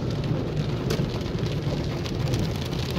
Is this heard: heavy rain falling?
yes